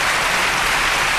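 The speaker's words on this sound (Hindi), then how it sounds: "मैं चाहूंगा कि आप सभी के लिए बहुत जबरदस्त ताली बजाएं।" Audience at a celebration event in a shop setting applauding: dense, steady clapping that fills the whole moment at full volume, with no voices over it.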